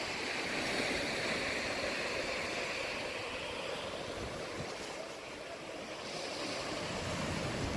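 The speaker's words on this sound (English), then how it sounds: "I could just watch these waves here flowing." Steady roar of ocean surf washing over rocks at Peggy's Cove, continuous and fairly loud with a slight dip midway, no voices.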